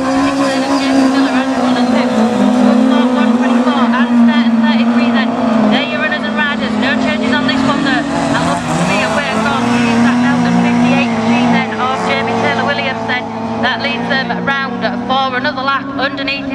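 Racing cars lap a race circuit, their engines a continuous loud drone that holds through the whole stretch while a commentator talks over it.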